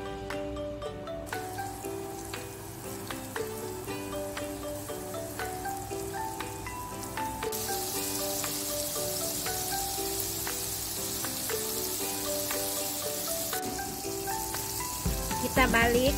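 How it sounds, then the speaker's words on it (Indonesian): Battered shrimp frying in hot oil, a steady dense sizzle running throughout the whole stretch with soft clicks of stirring, close and continuous with no talk. "Nah teman-teman, ini udah rata, kita goreng."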